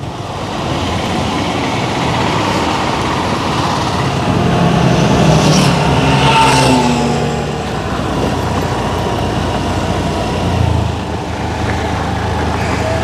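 An auto-rickshaw follows close behind on a rural road during a vegetable harvest outing, its engine giving a steady rumbling drone with a brief swell midway and no talk.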